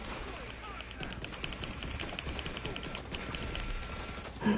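Rapid pistol fire in The Division 2, headshot-focused build: a quick, steady string of close, sharp shots runs through most of the stretch over constant game ambience, with a louder hit near the end.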